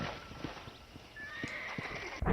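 A horse in the Red Dead Redemption video game whinnies in a long, rising neigh while its hooves clip-clop in an irregular rhythm, close and clear, ending in a sharp snort.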